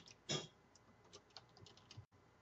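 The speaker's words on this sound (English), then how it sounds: "I'm going to type in my alias." Quiet keystrokes on a computer keyboard, one firmer tap followed by a scattering of soft, irregular clicks, close and faint with no voices.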